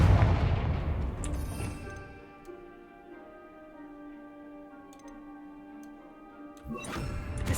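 A Confringo spell cast in the Hogwarts Legacy video game: a burst of sharp crackling impact opens, then a sustained ringing, shimmering magical tone hangs before another crackling burst near the end.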